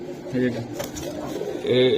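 Two male pigeons for sale at a market give short, low cooing calls twice, close by, over a murmur of voices.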